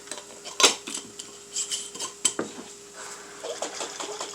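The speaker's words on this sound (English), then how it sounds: "put it right in the jar and shake it up" Salad dressing of oil, pepper and salt shaken in a lidded glass jar, a quick burst of clattering knocks followed by a softer run of lighter taps and rattles, close and with no voices.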